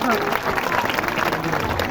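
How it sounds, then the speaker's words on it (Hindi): Audience clapping in welcome for a presidential award-winning teacher, a brief burst of dense applause at moderate distance with a voice speaking over it. "एक बार जोरदार ताली से स्वागत।"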